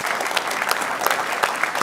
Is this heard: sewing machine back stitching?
no